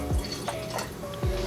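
Water poured into a sourdough starter during feeding, heard as a few short, close trickles and drips at a quiet level.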